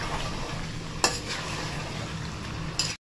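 Mutton being sautéed in a pan with steady stirring, a continuous close sizzle broken by two brief sharper scrapes of the spoon.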